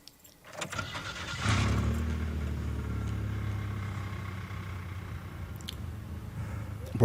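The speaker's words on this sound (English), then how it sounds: "Bro, your truck sounds terrible." A rough-running truck engine turns over and settles into a loud, uneven low rumble close by, with a brief clatter at the start and no voices.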